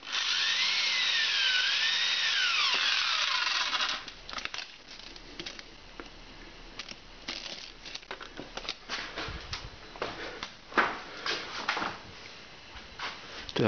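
A drill or screwdriver whirs steadily for about four seconds while screwing fasteners into a plastic window frame during installation, followed by scattered clicks, taps and handling knocks of tools.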